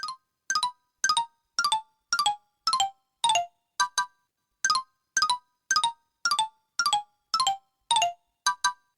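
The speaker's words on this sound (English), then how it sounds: "Jacob, you just have to hear the ringtone." Kurt Wallander's mobile phone ringtone plays as short, clean electronic beep pairs repeating at an even, steady rhythm, clear and alone with nothing else audible.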